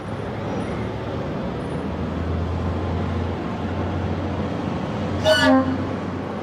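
Steady low rumble of a small rail bus, built for Munich branch lines, running along rails across the Andes, a constant drone throughout, with a brief horn toot near the end.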